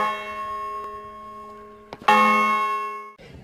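A bell rings out with a bright, sustained metallic tone, struck once firmly after a fainter earlier ring, then left to fade.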